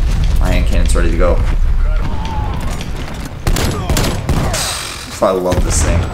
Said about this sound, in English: My hand cannon's ready to go.